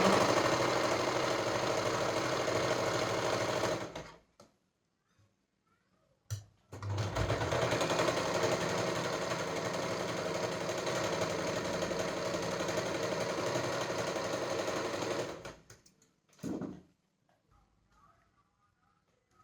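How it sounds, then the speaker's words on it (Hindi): Electric sewing machine stitching the back pieces of ladies' trousers together, a steady close whirring run of about four seconds, a pause, then a longer continuous burst of around nine seconds and a brief final spurt. "अब मैंने दोनों पार्ट को अच्छे तरीके से जोड़ लिया है, सिलाई कर ली है"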